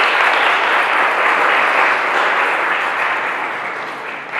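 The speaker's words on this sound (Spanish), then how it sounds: "Así que bueno, pues un aplauso para él." An audience applauds steadily in a hall during a talk on El Santo, the press and cinema, a dense loud wash of clapping that slowly thins and fades toward the end, with no voices over it.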